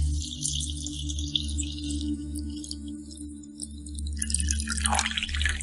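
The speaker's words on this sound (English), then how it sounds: "And then it's ready to be poured up in cups." Pine needle forest tea trickles and splashes as it is poured into cups, the liquid growing louder toward the end over a steady low hum, with no voices.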